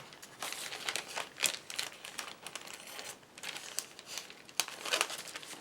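Single sheets of card paper being cut by hand for a double slider card: a run of crisp, irregular snips and crinkles, close and fairly quiet, with small pauses between cuts.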